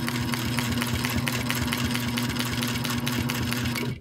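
A Sailrite 111 sewing machine topstitching runs steadily and close, its rapid, even mechanical chatter and motor hum continuing without pause before stopping abruptly at the end.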